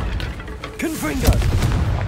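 Confringo fire spell blasting in the game Hogwarts Legacy, a loud booming burst with crackling impact amid battle noise, a voice briefly calling out over it.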